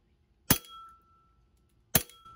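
Two sharp, close cracks about a second and a half apart as 0.12 gram BBs from a Glock 18c BB gun strike glass, each impact bright and clinking with a short ringing tail.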